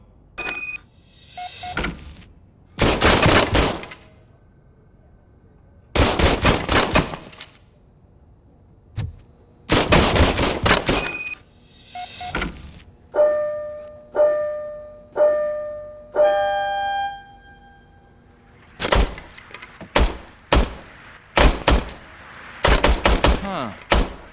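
Gunfire from an old, hand-serviced police service pistol in RoboCop: Rogue City: loud bursts of repeated shots in several clusters separated by pauses, with ringing electronic tones in the middle stretch and quick shot volleys near the end.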